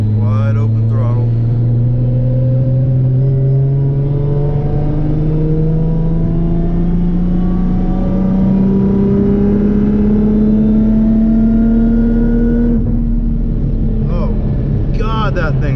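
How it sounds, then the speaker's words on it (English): A car engine roars at wide open throttle, its pitch climbing steadily for about twelve seconds before easing off, loud and close, with the wind and tyre noise of a hard pull underneath. "Wide open throttle."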